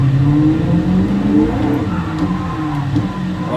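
Loud, steady engine note from a race car drifting in Gran Turismo Sport on the Nürburgring circuit, with rising and falling revs and a whirring tone, no one speaking.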